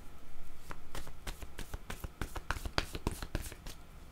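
Playing cards are shuffled and one is drawn during a tarot-style reading, giving a run of crisp riffling snaps and flicks at close range with no talking.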